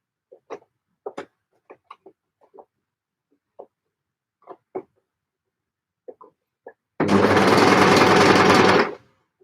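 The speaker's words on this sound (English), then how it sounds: "Let's sew over the pins." A sewing machine hems fabric, stitching straight over the pins in one steady, loud run of about two seconds, after a string of short, separate taps and clicks.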